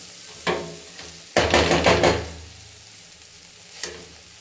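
Sambar boiling in a pot during a Karnataka-style dinner, a soft sizzle and bubbling with scraping stirs, a brief clink near the start and a louder burst of stirring in the middle, then quieter simmering.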